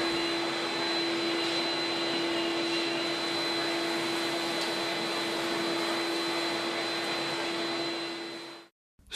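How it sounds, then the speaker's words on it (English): A HEPA filter vacuum cleaner runs steadily and loud while clearing dust and debris from a planer thicknesser's surface table and bed, a constant whine that cuts off abruptly near the end. "Clear the surface table and the thicknesser bed of all debris and dust using the HEPA filter vacuum"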